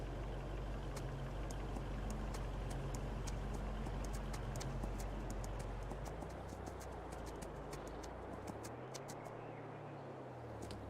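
Horse hooves clip-clop steadily through a ride in Farming Simulator 22, the sharp regular beats standing out over a constant low game engine drone with a swelling hum near the end.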